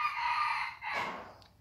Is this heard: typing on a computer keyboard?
no